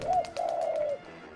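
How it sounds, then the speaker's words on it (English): A pigeon in the video game Jazzpunk coos twice, a soft low warble that breaks briefly and then trails off, clear and close with nothing else over it. "Let's get this pigeon."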